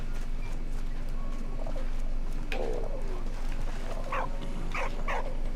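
Soft cooing of a tumbler pigeon in the video game Valiant Hearts: The Great War, a few short calls near the end, over a steady low hum with no talking.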